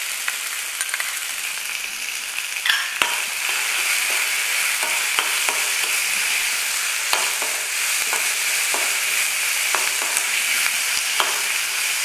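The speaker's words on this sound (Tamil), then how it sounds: "அடுத்ததாக குடமிளகாய் சேர்த்துறோம்." Chopped capsicum fries in hot oil in a pan while a spatula stirs it. A steady loud sizzle runs throughout, broken by frequent scraping clicks of the utensil, and no one speaks.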